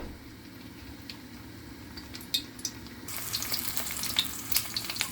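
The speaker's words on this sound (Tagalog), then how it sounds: "nailagay ko na po yung isda. Saglit lang ninyo po siyang prituhin." Fish tail dropped into a hot pan with ginger, quiet at first and then breaking into a loud, close, crackling sizzle with sharp pops for the last two seconds.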